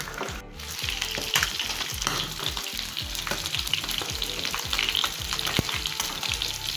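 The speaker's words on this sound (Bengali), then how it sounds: "মাছটা ভাজা হোক।" Tilapia fish frying in hot oil in a pan, giving a loud, steady sizzle with dense crackling and spitting that runs throughout, with no talking.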